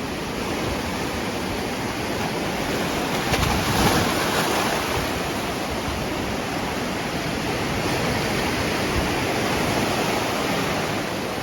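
High-tide ocean waves at Hua Hin beach, Thailand, make a steady, broad wash of surf and rushing water beside a seawall, with a slight swell in the middle and no voices.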